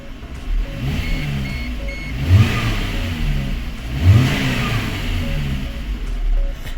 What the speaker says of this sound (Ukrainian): Запускаємо двигун. Запустився. Так, він працює.